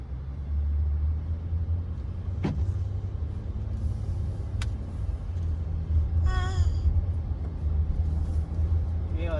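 A Volkswagen Touareg 3.0 V6 turbo petrol rolls along at a steady low rumble heard from inside the cabin, with road noise, a couple of sharp clicks and a brief squeak.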